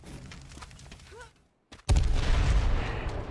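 Explosive blasts in the battle-royale game H1Z1: King of the Kill. The first part holds busy game noise, then a short silence, then a loud, sustained roaring burst of gunfire and explosions.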